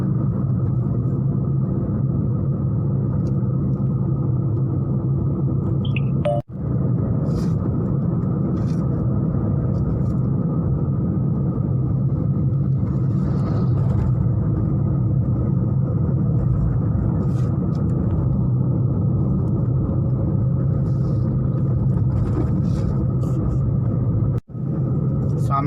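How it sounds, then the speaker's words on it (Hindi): Heavy highway traffic on the Bardhaman to Malda drive, heard from inside a car, makes a dense continuous engine and road rumble that holds steady throughout, with brief dips in the noise. "ट्रैफिक बहुत ही ज़्यादा है।"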